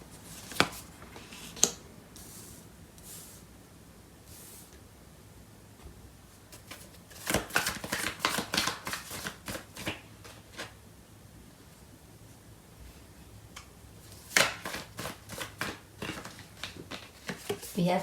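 Tarot cards are shuffled in irregular bursts of crisp riffling and slapping, close and fairly quiet, with a person talking between and over the shuffles.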